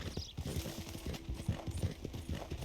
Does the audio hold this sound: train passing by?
no